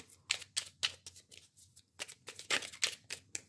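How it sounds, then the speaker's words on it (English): Sticky tarot cards are shuffled by hand in a run of quick, papery riffles and slaps, close and crisp, with brief pauses between bursts. "These cards tend to stick together. A little hard to shuffle"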